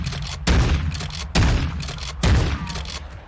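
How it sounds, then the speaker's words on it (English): Rapid gunfire in Warzone 2.0, three loud, close bursts of quick shots, each lasting under a second with brief gaps between them. "Okay, let's try the rapid fire."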